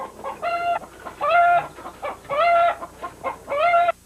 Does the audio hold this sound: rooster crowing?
yes